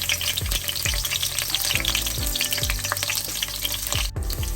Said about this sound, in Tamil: உள்ளி பொன்னிறமா பொரிஞ்சு கொண்டு வர